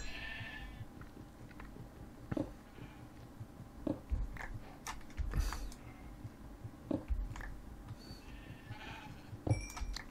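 Minecraft sheep bleat now and then in a cave over faint clicks and game ambience, with a few sharp bursts spaced a second or two apart.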